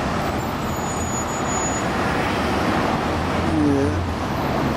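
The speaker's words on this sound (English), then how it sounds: "The center of traffic." Dense road traffic fills a busy intersection in central San Rafael, with school buses among the vehicles: a continuous loud roar of engines and tires, and a brief falling brake squeal near the end.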